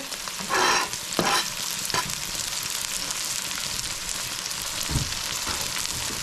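Scallions and pepper, with plenty of garlic, sauté in a hot pan for a chicken curry, giving a continuous close sizzle with a few louder stirring scrapes and no one speaking.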